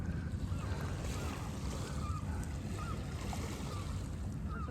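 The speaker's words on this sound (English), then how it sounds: "Get to the sea, or the Puget Sound technically." Sea waves wash against the Puget Sound shore at Discovery Park in Seattle, a constant low roar heavily mixed with wind buffeting the microphone.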